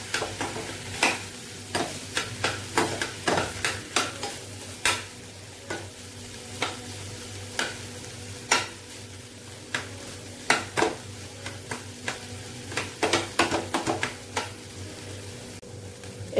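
Boiled potato being stirred into sautéed vegetables in a pan, a spatula scraping and tapping against metal in irregular, moderately loud knocks over a soft sizzle, with no voices.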